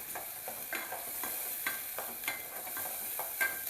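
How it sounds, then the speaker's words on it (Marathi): Masala sautéing in hot oil for a chicken thali, a steady sizzle with regular soft scrapes of a spatula stirring through the pan, close and even throughout. "चांगला परतून घेऊया आता"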